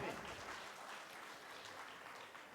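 A crowd claps at a Diwali gathering of a community association, sustained broadband applause filling the room at moderate level, fairly distant, with no speech over it.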